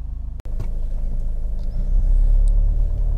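A Jaguar XF 2.2 automatic diesel car drives on a road test, giving a steady low engine and road rumble from inside the cabin that swells louder partway through, with a brief click near the start.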